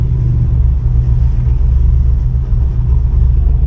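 A cammed Chevrolet Camaro engine rumbles steadily while driving, its deep low note running unbroken and loud throughout, with a rough, uneven texture to the idle-like drone that fits an engine breaking up.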